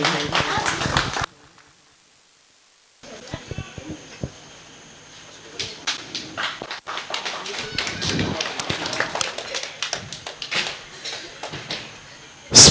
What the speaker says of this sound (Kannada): ಎಲ್ಲರೂ ಚಪ್ಪಾಳೆಯ ಮೂಲಕ ಪ್ರೋತ್ಸಾಹಿಸುವುದು